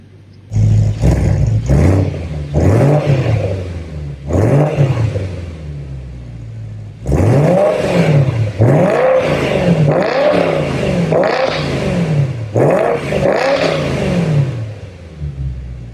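A BMW E90 M3 with the S65 V8 and a modified exhaust revs loudly up close, its engine note sweeping up and falling back in repeated blips, with a pause before a longer run of rapid revs and no talking.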